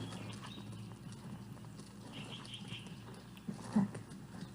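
A horse backs up at a ranch, its hooves giving a few soft, scattered clip-clop steps that are faint and somewhat distant, with one slightly firmer knock near the end, over low background noise.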